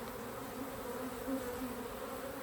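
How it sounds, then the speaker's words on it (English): Honey bees inside a backyard hive filling frames with honey, a continuous close, soft buzzing drone that holds steady throughout with slight swells. "these girls are honey bees and they're filling it up with honey"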